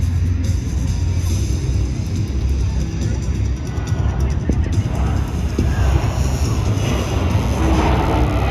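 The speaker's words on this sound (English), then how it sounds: "This pass demonstrates the extremely powerful engines of this magnificent jet" Military jet aircraft making a powerful pass at the Dayton Air Show in Ohio, a loud, steady broadband engine roar that persists throughout, with faint crowd babble underneath.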